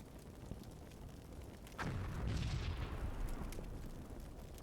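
Explosion in the World War II tactics video game Combat Mission Final Blitzkrieg, a single low, muffled boom that swells and then rumbles away over a few seconds, fairly faint, with no talking.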